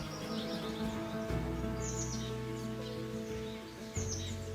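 Birds call in a green forest in Sreemangal, with a few faint chirps and tweets scattered over a soft, steady background hum.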